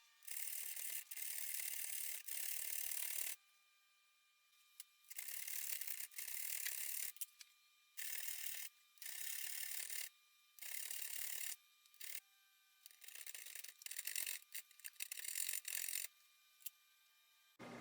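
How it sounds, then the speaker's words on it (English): Hand filing with a riffler file on a 1095 steel knife blank, cutting to join drilled holes into a slot: bursts of raspy strokes in uneven runs separated by short pauses, close and steady. "using a riffler to try and connect the holes together"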